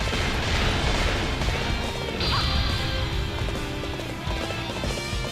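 Horse hooves gallop in the video game Dynasty Warriors 8: Xtreme Legends, a fast loud clatter of clip-clop beats mixed with crashing battle noise and a brief whinny-like cry.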